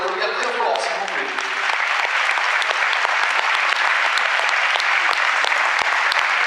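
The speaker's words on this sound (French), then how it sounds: "Et vous pouvez les applaudir très fort" An audience at a sports awards evening applauding loudly and continuously, many hands clapping in a dense, even wash, while a voice fades out at the very start.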